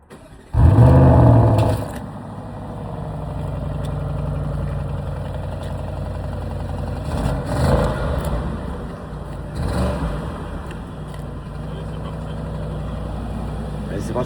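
An Audi RS7 C8 engine starts with a loud, sharp burst, then settles into a steady idle broken by a couple of brief revs, heard close with people talking at moments.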